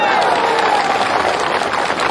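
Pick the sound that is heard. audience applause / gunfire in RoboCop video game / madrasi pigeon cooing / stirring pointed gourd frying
audience applause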